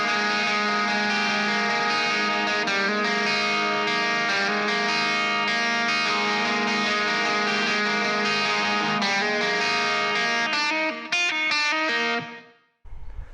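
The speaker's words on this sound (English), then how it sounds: "the lead guitar comes in after a progression in the bridge with like a cleaner part, which I will turn the overdrive off and the reverb on" Clean lead electric guitar with overdrive off and reverb on plays a sustained, ringing melodic line. It stays steady and fairly loud, then breaks into quicker picked notes and trails off near the end.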